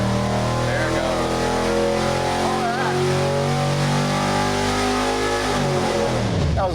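A built 6.4L Gen III HEMI V8 roars loud and steady through a long dyno pull, its harmonics climbing and holding before the revs drop off at the end, with voices faint underneath.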